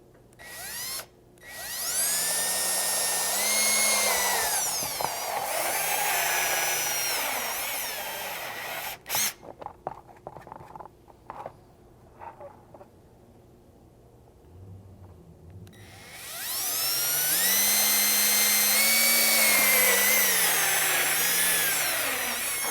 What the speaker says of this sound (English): I'm just going to be using a step bit